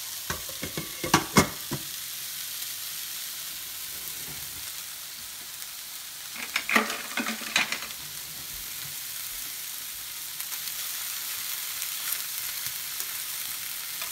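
Potato frying in a pan, a steady hiss of hot oil throughout with a few brief clusters of clinks and stirring, close but moderately quiet, no talking.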